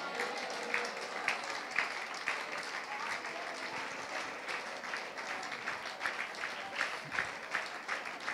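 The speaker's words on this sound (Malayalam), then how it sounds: "കൈയടിക്കല്ലേ? കൈയടിക്കണ്ട," Church congregation applauding during a ministry service in Fort Kochi: faint, steady clapping from many hands at a distance, continuous with scattered sharper claps.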